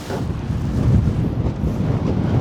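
Wind gusts on a lake in Georgia buffet the microphone from a small boat as its anchor is pulled up, a steady, loud, rough rumble with no talking.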